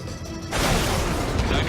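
A missile explosion in the combat flight game Ace Combat 7 erupts after a brief quieter moment, becoming a loud, dense, sustained roar that fills the rest of the short span.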